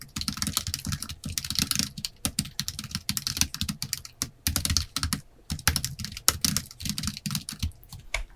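Computer keyboard clacking in rapid, uneven bursts as Korean text is entered for a PowerPoint exam exercise, close and crisp with short pauses between runs of keystrokes, no speech.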